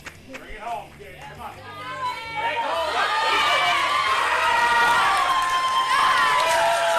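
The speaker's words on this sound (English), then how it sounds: "You can hear the crowd behind her." A crowd at a powerlifting meet swells from scattered shouts into loud sustained cheering and whooping behind the lifter Gabby, building over the first seconds and staying strong to the end.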